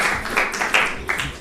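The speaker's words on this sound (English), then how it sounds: "So please give him a round of applause." An audience at a 20th anniversary celebration in Ireland breaks into a brief round of applause, a few dense bursts of clapping over roughly a second and a half, with no talk.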